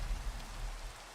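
Steady rain on a rainy morning, an even, soft wash of falling drops with no other sounds on top.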